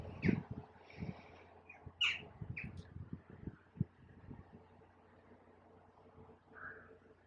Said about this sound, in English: And you can hear birds.